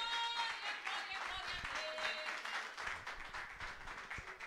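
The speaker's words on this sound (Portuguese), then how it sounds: "palmas para o Senhor Jesus" A church congregation applauds during a worship service, a soft, fairly distant wash of many hands clapping continuously with faint voices mixed in.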